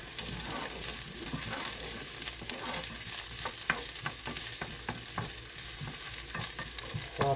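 Onions sizzle in grapeseed oil in a cast iron skillet, a steady bright frying hiss with repeated scraping stirs of a utensil against the pan, close and continuous.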